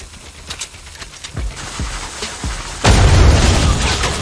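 A grenade explodes in Fortnite gameplay, with several sharp booming pops, then a sustained loud blast and rumble that fills the remaining seconds.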